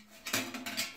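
A metal baking sheet slides into a Hamilton Beach 6-slice toaster oven, making a short series of close, light clattering scrapes and knocks in a quiet kitchen.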